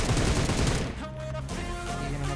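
Gunfire in a mobile battle-royale shooter game, a rapid fusillade of automatic shots at the start that breaks off into quieter game sounds and tonal effects, loud and close with no talk.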